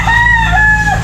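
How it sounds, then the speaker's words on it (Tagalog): A single loud rooster crow, one quick drawn-out call heard close up over a low background hum, in the countryside. "Oh, doon pala nahapon yung isang manok na yun eh."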